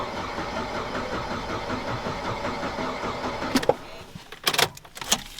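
Van engine cranking and failing to catch, a steady churning rumble for several seconds that cuts out into a few sharp clunks and short bursts, heard close up with no talk.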